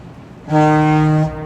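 A boat's horn sounds once, a steady, fairly loud tonal blast lasting under a second over a quiet background.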